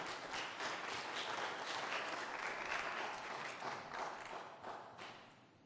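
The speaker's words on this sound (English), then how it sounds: "give yourselves a round of applause" A room of attendees at a school board meeting breaks into warm applause, many hands clapping at moderate distance, steady for several seconds then thinning out toward the end.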